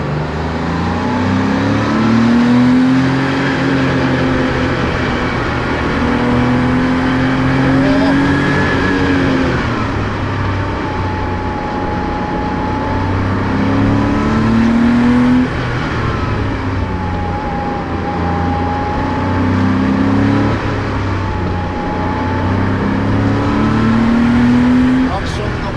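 A Porsche 911 Speedster design study prototype accelerates hard uphill, its engine rising in repeated loud revving sweeps through the gears, close and continuous with a voice talking over it.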